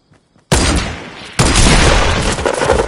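Semi-automatic rifle fire in Fortnite, two sudden loud, close blasts about a second apart, each followed by dense crackling roar that carries to the end.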